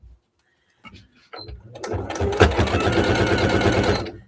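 A sewing machine stitches a bag seam. A few soft clicks come first, then a fast, loud, steady rattle of stitching runs close-up for the last couple of seconds.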